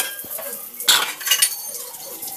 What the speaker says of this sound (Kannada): ಸೊ ಎಷ್ಟು ಸಹ ತೊಳೆದ್ರು ಅದು ಬರ್ತಾನೆ ಇರುತ್ತೆ ಪಾತ್ರೆ ಒಂದ್ರ ಮೇಲೆ ಒಂದು